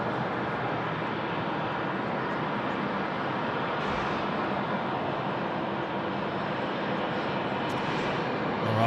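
American Airlines jet taking off from runway 34 left at Sydney Airport, a continuous broad engine roar that stays loud and steady throughout, with no speech.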